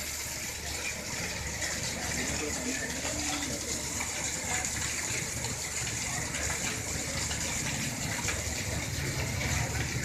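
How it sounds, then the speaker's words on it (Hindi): Heavy rain pours steadily in Lahore, a dense continuous hiss of rainfall and gushing runoff water, loud and unbroken for the whole stretch, with a voice faintly underneath. "तो गाइस देखेंगे बारिश कितनी तेज़ हो रही है।"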